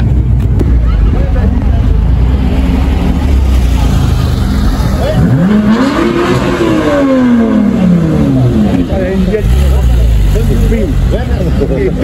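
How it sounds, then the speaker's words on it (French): A Nissan GT-R accelerates hard onto a ring road, its engine note climbing and then falling as it passes, heard amid the constant loud hum of nearby traffic and crowd noise. "il y a une GTR qui vient de prendre la rocade, elle accélère comme une folle"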